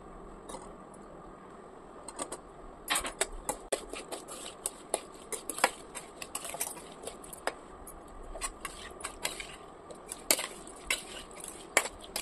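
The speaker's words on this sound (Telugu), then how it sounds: "పచ్చి మామిడికాయ ముక్కలు 4 కప్పులు తీసుకొని ఈ మిశ్రమంలో వేసి బాగా కలుపుకోవాలి" Raw mango pieces stirred into a spice mixture for pesara avakaya pickle, giving soft crunchy clatters and scrapes at an irregular rhythm, close and fairly quiet, with no talking.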